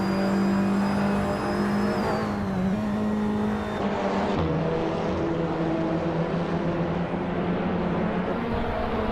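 A 2018 Peugeot 308 race car in a racing video game holds a loud, continuous engine drone. The pitch shifts as it accelerates and changes gear, and the car passes close by with no voices.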